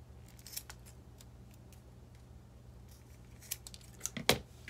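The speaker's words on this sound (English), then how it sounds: "now we're just going to cut off the little tails here" Scissors snip the small leftover string tails on a homemade clacker toy, a few quiet metallic clicks and cuts near the end over a low steady hum.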